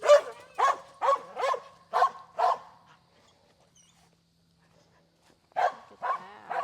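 A guard dog at a farm garden lets out a quick run of about six loud, close barks, falls silent for a few seconds, then starts barking again.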